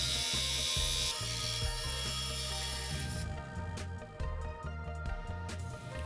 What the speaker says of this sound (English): Start cutting along the profile to remove the section of fender underneath it.